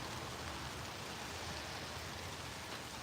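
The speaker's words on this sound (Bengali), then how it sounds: "গাছতলায় বৃষ্টি তো আরও বাড়তেছে" Heavy rain pours down steadily beneath a tree, a dense, even roar of drops hitting surfaces that fills the whole moment without a break.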